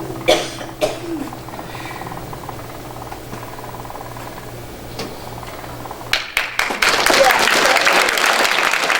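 A church audience at a spirituality service breaks into applause, a few scattered claps and coughs first, then dense, loud clapping swelling over the last few seconds.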